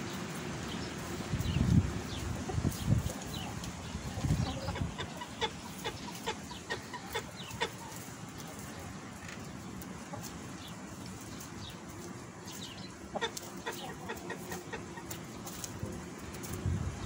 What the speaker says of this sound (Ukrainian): Кури, м'ясо яєчні, несуться цілий рік